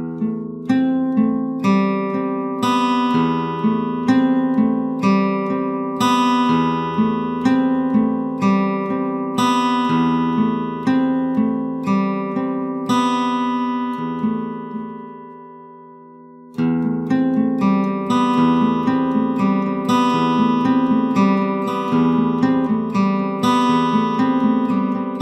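Guitar picking an odd-time pattern that rings through open strings, with steady repeated plucked notes. The phrase cuts off for a moment near the middle and then starts again, played alone at a strong, even level.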